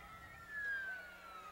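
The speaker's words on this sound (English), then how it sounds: "You're going to hear these sirens." A parade siren wails faintly in the distance, a thin rising and falling tone that swells slightly midway before fading back under a steady outdoor hum.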